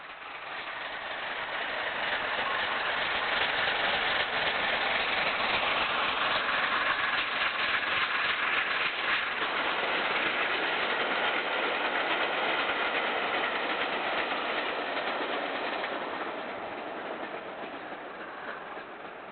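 A steam locomotive, 4498 Sir Nigel Gresley, works a railfan special through the Chiltern Hills near Saunderton. A broad, steady rushing roar swells in and holds for most of the clip before easing off, with no voices.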